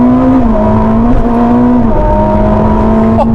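Ferrari SF90 Stradale engine under hard acceleration, a loud steady whine that climbs and dips through a couple of quick gear changes, heard continuously from close by with no talking.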